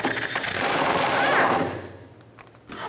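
A hand ratchet clicks rapidly while backing out 10 mm carrier bearing bolts on a Ford Escape drive shaft, a dense close clicking burst that fades after about a second and a half.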